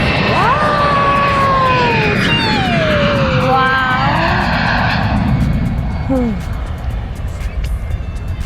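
Aircraft engine noise at Khon Kaen International Airport in Thailand, a loud steady roar with rising and falling whine tones throughout, while people talk over it.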